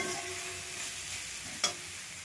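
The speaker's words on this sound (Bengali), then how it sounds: "আবার একটু ভালো করে কষে নেব" Pointed gourd and prawns sauté in a pan, giving a soft, faint sizzle throughout with a single sharp scrape or clink near the end, close by and with no voices.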